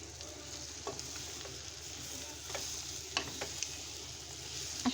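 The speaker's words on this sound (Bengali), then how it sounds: "এই যে এখন আমি করলাটা দিয়ে দিচ্ছি। করলা, আলু আর পেঁয়াজ একসাথে।" Bitter gourd, potato and onion fry alongside small shrimp in a pan, a soft continuous sizzle broken by occasional stirring scrapes and light clinks, close but fairly quiet, no voices.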